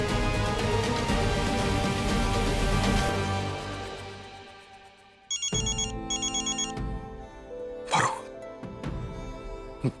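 A phone rings with an incoming call, repeated electronic ringtone chimes sounding after a stretch of music, followed by a cough and throat clearing nearby.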